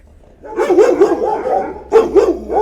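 Jamal, a large dog at a shelter, gives a short run of close, loud barks and yips in two bursts, with a brief pause between them.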